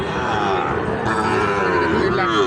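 Gir and Sahiwal bull calves bellow at a rural cattle market, several drawn-out, loud moos close by, one after another over a faint background murmur.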